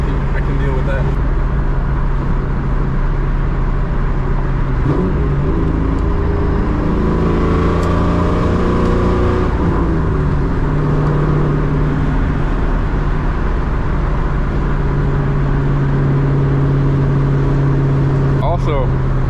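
A straight-piped 2003 Mustang GT drones steadily with a low exhaust rumble while cruising, rising briefly as it accelerates, with road noise mixed in and occasional talk over it.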